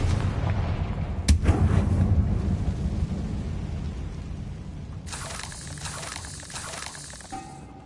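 Confringo fire spells in Hogwarts Legacy blast with a sharp booming impact near the start, then a rumbling decay, followed by a later burst of crackling, hissing energy.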